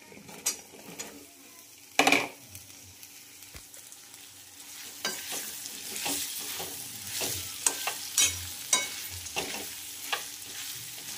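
Cut eggplant tipped into a ready gravy and stirred in a pan, starting with a sharp clatter, then a soft sizzle under repeated scraping strokes of a spoon, close and moderately loud, with no talking.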